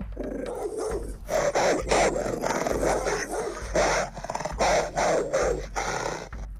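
Dogs growl and bark in loud bursts close by, snarling between sharp barks in an aggressive, uneven rhythm.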